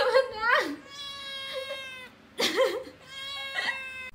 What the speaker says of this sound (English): Person walked into their room and found their cat stuck between two curtains.